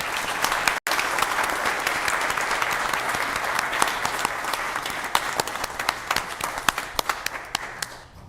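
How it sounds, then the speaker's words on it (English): A town council meeting audience applauds Chief Foley with steady, fairly loud clapping from many hands that runs for several seconds and tapers off at the end. "Let's give us Chief Foley a round of applause for a great one."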